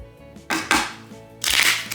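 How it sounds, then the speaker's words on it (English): A deck of playing cards being shuffled roughly during a home card game, producing a few loud, abrupt riffling thumps in quick succession at close range. "That was the worst shuffling."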